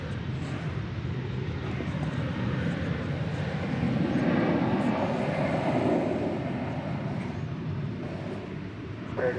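An airliner roars steadily on its takeoff run from runway 18 Left at DFW Airport, a broad, sustained rumble that swells slightly midway and holds at a moderate distance, with no talking.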